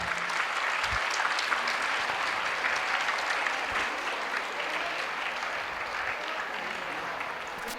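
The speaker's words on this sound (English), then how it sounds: "A loud round of applause for our loving principal." Steady, full round of applause from an audience at a St. Anne's PU College and High School gathering, greeting the principal, sustained and even for several seconds.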